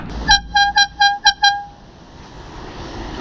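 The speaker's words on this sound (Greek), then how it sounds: "Κόρνας." A car horn honks in a rapid series of about six short, loud toots, then falls silent, with no talking during the blasts.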